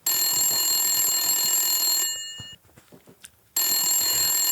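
A mobile phone rings loudly and close by in a steady electronic trill, cuts off for about a second and a half, then resumes.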